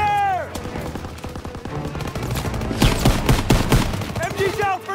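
Gunfire in a WW2 battle from a video game comes as dense, overlapping volleys of rifle and machine-gun shots, close and loud, steady for five seconds with shouted battlefield voices mixed in.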